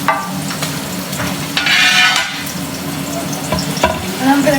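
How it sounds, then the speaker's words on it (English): Chopped onions sizzle and crackle in a hot pan while a utensil scrapes and stirs them; the frying hiss stays steady and close, with one louder burst of sizzling and brief clinks of the spoon against the pan. "I'm gonna put all my onions into the pan."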